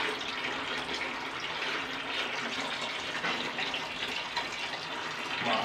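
Water running from a tap into a bucket, a steady close splashing fill that continues evenly throughout without any voices.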